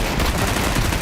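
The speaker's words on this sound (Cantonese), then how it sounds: "我哋係咁喺度喺個頂嚟開槍" Rapid gunfire in a shooting video game, shots fired from a rooftop position, loud dense bursts following one another in quick succession with no pause for the whole moment.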